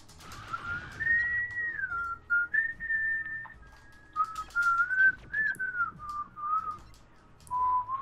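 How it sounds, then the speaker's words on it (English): Someone nearby whistles a longer wandering melody in several phrases with short breaks between them, clear and fairly loud over a quiet low background. "That's whistling."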